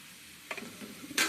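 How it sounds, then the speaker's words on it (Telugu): Mushrooms hit a hot pan and start frying, with a quiet sizzle, a couple of soft stirring scrapes and a sharp hiss swelling at the end, all close and without talk. "మష్రూమ్ మొత్తం వేసేయాలి."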